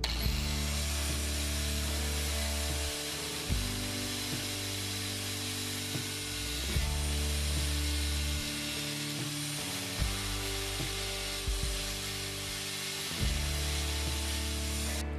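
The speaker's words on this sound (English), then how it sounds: "Then I'm gonna use an angle grinder with a cutoff wheel, and we're just gonna cut the edge of this off." An angle grinder fitted with a cutoff wheel cuts through the edge of a bike chain pin, a steady loud whining drone that rises and falls in several long passes with brief pauses between them.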